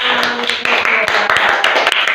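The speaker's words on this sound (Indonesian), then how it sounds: "Tepuk tangan" A classroom group claps after a student presentation, producing loud, close, uneven claps, with voices murmuring underneath throughout.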